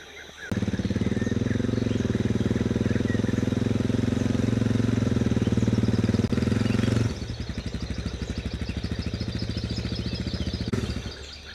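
A motorcycle engine revs hard and loud while the bike is pushed uphill on a rough road in Gabon, then drops to a lower, steadier throttle after about seven seconds before cutting off near the end.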